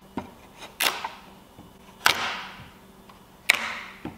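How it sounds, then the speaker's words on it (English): A chisel pries and breaks wood pieces loose while building a round picnic table, with three sharp cracking snaps, each followed by a short splintering rasp, and soft knocks between them. "I used a chisel to pry it over and break the pieces loose."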